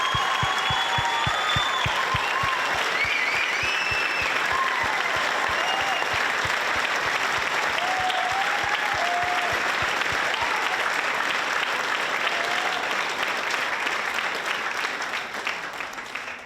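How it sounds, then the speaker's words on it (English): A high school audience gives sustained applause for teacher Mr. Carl Prophet at Mahi Toi 2017, loud continuous clapping with a regular low thump and faint whistles or cheers riding over it, tapering slightly at the end. "Please can we get a massive round of applause for the best teacher us two high school students could have asked for"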